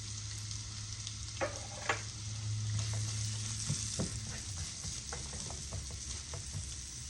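Onions sizzle in warm olive oil in a pan for a seafood stew, a continuous close crackling hiss broken by a few sharp knocks and stirring clatters, with a low steady hum beneath and no talking.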